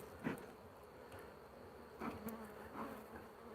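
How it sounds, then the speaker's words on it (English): Honey bees buzz around an open frame pulled from a loaded hive of brood and honey, forming a soft, steady drone with a few individual bees swelling louder as they pass close. "These are definitely a gentle set of bees here in Hive 1."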